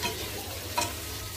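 Green beans stir-fried in a pan for a simple vegetarian meal give a steady, close sizzle with continuous stirring and one brief louder scrape, with no talking.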